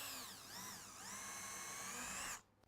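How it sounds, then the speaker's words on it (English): Power drill boring a screw hole into an old wooden board, a steady whining motor for about two seconds with slight pitch dips under load, then stopping abruptly. "So I'm going to drill it here."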